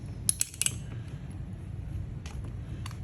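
A ratchet clicks a few times, sharp and close, while torquing down a Loctite-coated fastener on a Traxxas Nitro Rally engine, over a low steady background hum with no talk.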